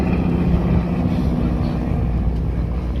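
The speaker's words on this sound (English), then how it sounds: "The other three aircraft are coming in from the east, diving in for a Z loop." Warbird aircraft fly at an airshow, a continuous low engine drone and rumble that stays fairly loud and steady, heard at a distance with no talk over it.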